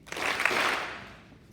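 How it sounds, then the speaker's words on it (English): An audience at an upper school winter sports assembly breaks into a brief burst of applause that swells quickly and then tapers off within about a second and a half, fairly close and moderately loud. "if you could do the 2-clap thing"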